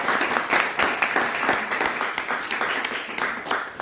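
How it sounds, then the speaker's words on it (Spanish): An audience at a book presentation breaks into applause, a brisk, dense patter of many hands clapping together at close range, sustained briefly with a faint murmur underneath. "podemos aplaudir"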